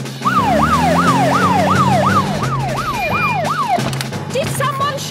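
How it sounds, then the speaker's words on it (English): A cartoon police car siren from Peppa Pig wails loud and close in steady, repeated rising-and-falling sweeps, about eight cycles, over a low engine hum, then cuts off into scattered clatter. "To the police car."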